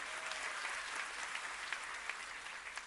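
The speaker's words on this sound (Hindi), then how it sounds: "ताली बजाओ बेटी के लिए" An audience applauds a girl at a public event, a dense, sustained patter of many hands clapping with a few sharper individual claps standing out.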